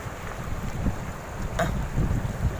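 Dry wind gusts steadily through trees outdoors, a continuous rushing roar with low buffeting against the microphone, swelling slightly in strength toward the end, with no voices.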